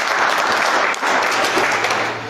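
A seminar audience claps loudly on cue, a thick, continuous roar of hands that dips for an instant midway and then eases off toward the end, with no talking over it.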